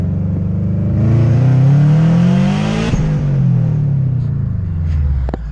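Subaru WRX STI making about 380 wheel horsepower, driven at night with its exhaust roaring loudly as it accelerates, the engine note climbing steadily then dropping back after a gear change.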